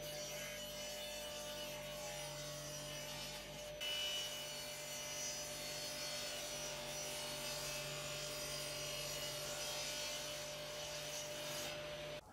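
A saw disc cuts through a plywood board for a sturdy furniture frame, producing a loud, continuous grinding whine that holds steady for the whole stretch with no voices.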